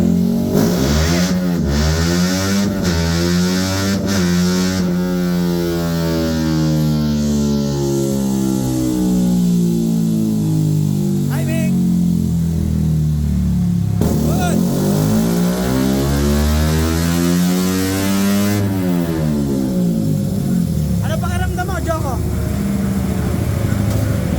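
A loud motorcycle engine revs repeatedly on a dyno after an ECU remap, pitch climbing and falling in long sweeps, running steadily without a break from start to finish.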